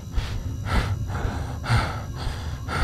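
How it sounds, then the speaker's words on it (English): Heavy, ragged breathing from a tired character in the Backrooms horror video game, with close gasping breaths that come in roughly one-second pulses and carry no speech. "All that heavy breathing."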